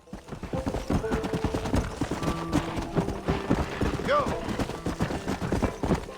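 Hooves clip-clop rhythmically as a horse moves along in Red Dead Redemption, close and fairly loud, with someone talking over them and a short whinny partway through.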